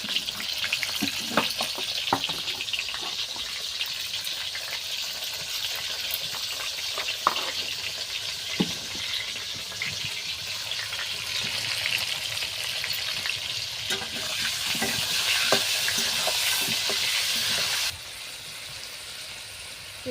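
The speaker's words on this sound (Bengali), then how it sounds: "তেলটাও গরম হয়ে গেছে, দিলাম পেঁপেটা, একটু হলুদ নুন দিয়ে ভেজে নেবো।" Papaya fries in hot oil with turmeric and salt, a continuous close sizzle broken by occasional stirring clicks and scrapes, the hiss swelling louder before dropping off near the end.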